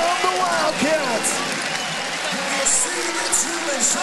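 A basketball crowd at Challenge Stadium rises in cheers and applause, a broad roar beneath a commentator talking over it.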